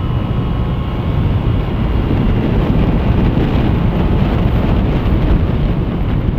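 Strong wind buffets the microphone on a motorcycle ride in a steady, loud roar, with a low engine hum underneath and no talking.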